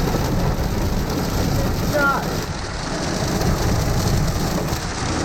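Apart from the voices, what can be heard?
pea-sized hail and rain in a severe thunderstorm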